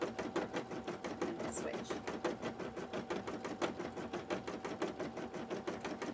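A sewing machine chugs steadily as it stitches lamé fabric, a fast even rhythmic clatter at close range, while a person speaks briefly over it.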